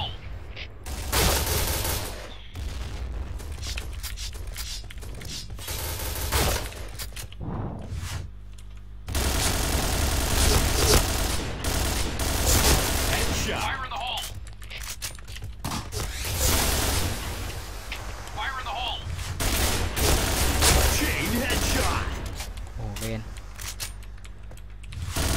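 Gunfire in the video game Point Blank, repeated loud bursts of automatic shots and single cracks coming in clusters over about twenty-five seconds, with excited voices talking throughout.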